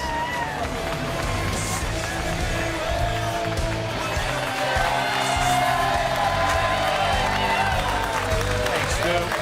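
Studio audience applause and cheering at the start of a late-night TV show, a steady, loud wash of clapping and whoops with crowd babble running throughout.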